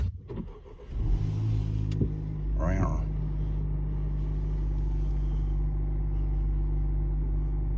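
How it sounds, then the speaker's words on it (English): A Honda Civic Type R FL5 starts with a short cranking whine, catches, and then settles into a steady, low idle close by. Brief talk comes before the start. "Okay, let's fire her up."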